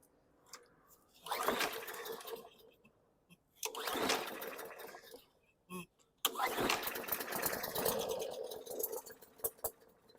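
A 2020 Yard Machines lawn mower needing fresh fuel sputters through two short starting attempts, then catches and runs roughly and loudly, heard close up.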